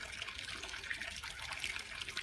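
Water spouting steadily from a statue fountain, a continuous splashing gush that stays even and moderately faint throughout with no voices.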